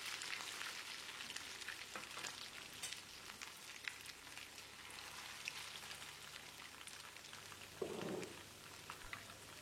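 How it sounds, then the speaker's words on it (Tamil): Leftover idli pieces deep frying in a pan of oil, a continuous soft crackling sizzle like light rain, fairly quiet and steady, with one brief clunk near the end. "வாணலியில் ஊற்றி இருக்கிற எண்ணெய்க்கு தகுந்த மாதிரி இட்லிகளை போட்டு பொரிச்சு எடுத்துக்கலாம்"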